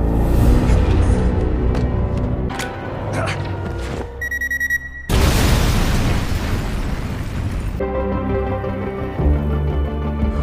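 A car bomb explosion in a film scene bursts out as a loud, rumbling blast with a roaring wash of noise, set amid a dense, busy soundtrack with tones and effects before and after.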